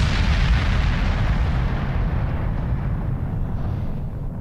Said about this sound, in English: We got her just before the ship exploded